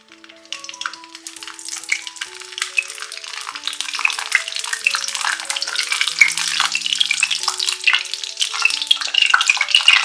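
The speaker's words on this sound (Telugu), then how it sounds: "ఇప్పుడు ఈ నూనెలో మనం ముందుగా కట్ చేసి పెట్టుకున్న వంకాయలను వేసి డీప్ ఫ్రై చేసుకోవాలి" Cut eggplants deep frying in about 50 grams of oil for a stuffed gutti vankaya curry, a steady close bubbling sizzle that builds louder and denser over the whole stretch, with faint low tonal hums underneath and no talking.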